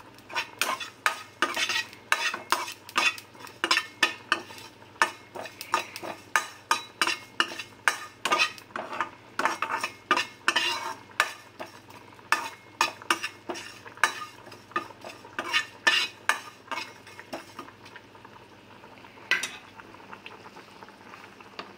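Taro (kochu) frying with cumin seeds in a pan, stirred steadily with a metal utensil that scrapes and clinks in quick, rhythmic strokes over a bubbling, sizzling bed, close and fairly loud for about twenty seconds.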